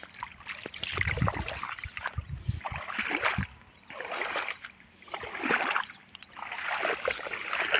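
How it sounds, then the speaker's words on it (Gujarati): Irrigation water from two pumps flows into a wheat field on a farm, splashing and gurgling close by in repeated surging bursts separated by short quieter lulls. "અત્યારે પાણી ચાલુ છે"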